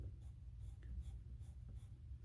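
A pencil moves across paper in short, soft scratching strokes, close and quiet over a low steady hum, with no talking.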